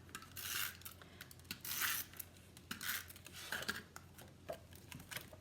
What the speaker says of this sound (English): Really giving that a good rub because we don't want that ribbon to lift